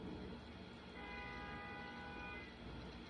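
A train horn sounds in the distance for about a second and a half, a sustained tonal blast over a faint rumbling rail background, quiet overall.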